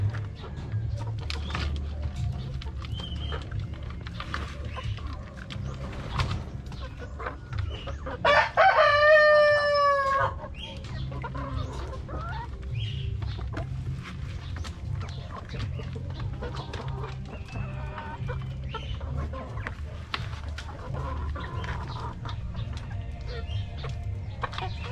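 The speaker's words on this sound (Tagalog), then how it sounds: "lalaking manok na naman yon" A rooster crows once, loud and close, with clucking chickens and a low steady hum of a farm yard around it; the crow stands out for about two seconds amid scattered bird noise.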